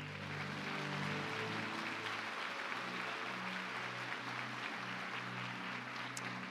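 Congregation applauding during an evening church service, a continuous crowd of clapping mixed with sustained low musical tones, likely a keyboard or organ pad holding notes underneath.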